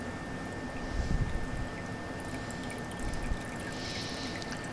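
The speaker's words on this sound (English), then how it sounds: "you see the pipes, the water coming in from the sides" Rainwater trickling from side pipes into a sump pit, a continuous soft splashing and dribbling stream at moderate distance, with a couple of slightly louder surges.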